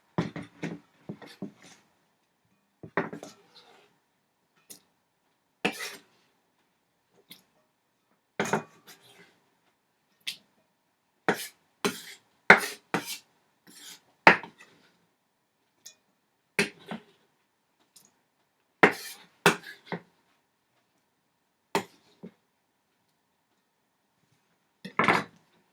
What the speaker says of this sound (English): add it into the mixing bowl and give it a stir